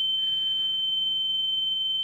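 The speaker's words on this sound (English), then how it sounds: "That ringing doesn't need to be there." A steady high-pitched electronic ringing tone drones throughout the horror game The Town of Light, one constant piercing pitch holding alone over a faint low hum.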